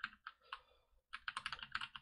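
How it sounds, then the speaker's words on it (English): A computer keyboard clicks close up in uneven bursts: a few spaced taps, a short pause, then a quicker run of typing. "You like those keyboard clicks?"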